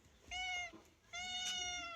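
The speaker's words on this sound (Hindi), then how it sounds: "बिल्ली यहाँ पे बहुत ज़ोर ज़ोर से चिल्ला रही थी" A cat meows loudly twice, two long drawn-out cries separated by a short pause, close and clear with no talking.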